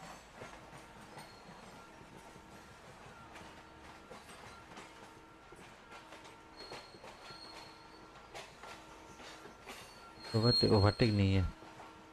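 Hatia–Kharagpur–Hatia Express departing an underground station: a steady low rail rumble with faint wheel squeal, then a brief loud burst of horn-like tones near the end, with a voice talking over it.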